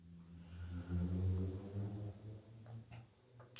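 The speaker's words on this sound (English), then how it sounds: "I can hear a shit car though" A car engine revs outside, a low rumbling drone that swells loudly early on and then settles into a steadier hum, with a few faint clicks toward the end and no talk.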